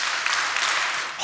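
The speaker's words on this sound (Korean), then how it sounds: "자, 이제 박수 3번 시작." A church congregation clapping together on cue, a brief dense burst of hand claps lasting just over a second, fairly soft and without talk.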